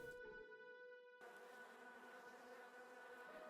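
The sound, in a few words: bees buzzing in a video game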